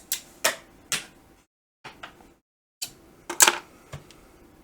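Plastic clips snapping onto a cross-stitch hoop, a series of sharp, close clicks and snaps in irregular clusters separated by short silences.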